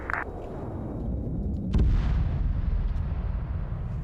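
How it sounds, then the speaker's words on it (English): Artillery strikes in a military strategy video game land as a heavy boom followed by rumbling and crackling blasts that keep rolling on, loud and dense, with no voices. "Artillery strikes."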